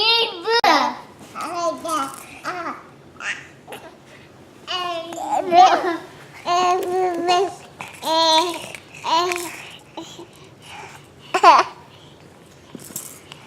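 A baby girl babbles in bursts of cooing, squealing vocal sounds with brief giggles, close to the microphone and fairly loud, with short pauses between phrases.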